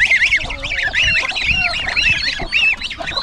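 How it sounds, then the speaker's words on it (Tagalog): Goose chicks peep in shrill, wavering high calls, several overlapping in quick bursts, close by with faint background noise. "Sisiyo ng gansa dito."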